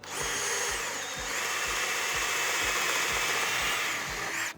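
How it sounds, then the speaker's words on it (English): A power drill whines steadily at close range, with a regular low thumping rhythm underneath as it bores a pilot hole through a dock edge. "drill until the tip gets through the other side"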